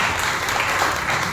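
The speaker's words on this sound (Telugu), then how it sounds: "మనము చప్పట్లు కొట్టి ప్రభువును బయటపరుస్తాం" A Sunday worship congregation claps together in a steady, dense wash of applause that holds at an even, fairly loud level throughout, with no voices standing out.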